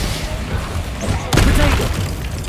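A deep boom from a spell explosion in Hogwarts Legacy bursts out midway, a sudden loud crash with a rumbling tail, set against an ongoing low combat rumble.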